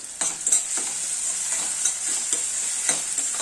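Steady sizzle of frying in a pan for a capsicum stuffed egg curry, with a constant hiss and several soft scraping stirs at irregular intervals, close and moderately loud, no talking.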